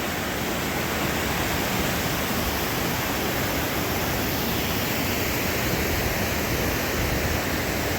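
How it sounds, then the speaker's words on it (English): Fast-moving river water rushes through Clarendon Gorge after a night of rain, a loud, continuous broadband roar with no pauses and no voices. "water is definitely moving really fast now."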